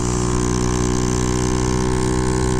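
A Honda Ruckus scooter engine held at high RPM while riding uphill on a full tank, a loud, steady, droning buzz with constant pitch and no breaks.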